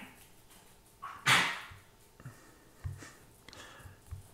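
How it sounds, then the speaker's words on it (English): An excited older dog that has just come in from outside sniffs and snorts quietly nearby, with one sharp bark or huff and scattered softer snuffles over a few seconds. "That's my older dog, Cindy."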